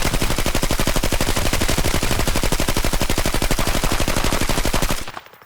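Sustained rapid automatic gunfire from a T6 weapon in the video game Arena Breakout Infinite, a loud, evenly spaced burst lasting about five seconds before cutting off abruptly.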